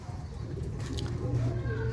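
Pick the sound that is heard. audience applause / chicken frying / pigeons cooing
pigeons cooing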